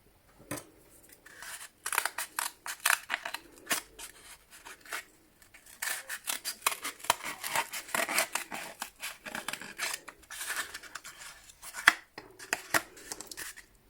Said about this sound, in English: we're going to cut out those shapes